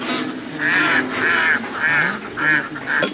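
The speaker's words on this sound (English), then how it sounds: "Got a bunch of little duckies down there and a couple geese." Ducks quack in repeated loud bursts, with geese honking among them, fairly close, over a steady outdoor background in Turkey.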